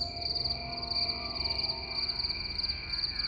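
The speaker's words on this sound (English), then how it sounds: "The chirps of crickets echo off cave walls." Crickets chirping inside a cave in Meghalaya, a steady high pulsing trill with a faint echo off the rock walls, continuous and moderately loud with no voices.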